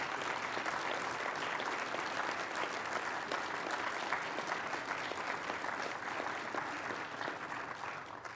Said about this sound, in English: give each and every one of them a signal by giving them the round of applause they so richly deserve